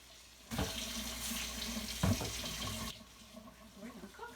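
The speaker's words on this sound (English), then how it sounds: "I'm going to wash my hands." Water runs from a kitchen or bathroom tap for a couple of seconds while hands are washed beneath it, a steady splashing wash with a brief louder surge, then cuts off.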